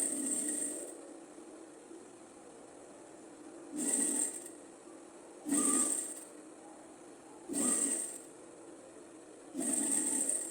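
A domestic sewing machine runs in short bursts while stitching the side seam and hem of a viscose blouse, four or five whirring runs of about a second each separated by quieter pauses, fairly close.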